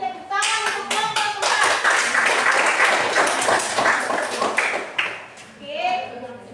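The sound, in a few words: applause for a presentation group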